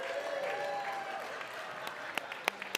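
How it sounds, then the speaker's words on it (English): Brief applause from a church family-service congregation, a soft spread of clapping that thins out into a few scattered, sharper claps near the end. "Let's clap for David."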